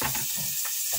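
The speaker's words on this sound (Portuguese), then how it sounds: "vai fritando junto com a cebola." Pork pieces fry with onion in a pot in a home kitchen, a close, steady crackling sizzle over one brief second.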